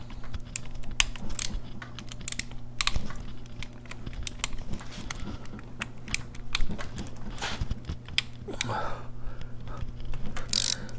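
Rapid ratchet clicks come from a 3/16 Allen socket on a ratchet cracking loose the primary cover bolts of a Harley-Davidson Sportster, in repeated close bursts of clicking with faint background hum.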